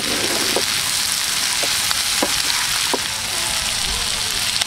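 Baby green beans stir-fried outdoors with salt and ground black pepper, a steady loud sizzle throughout with a few scattered clicks of stirring, no talking.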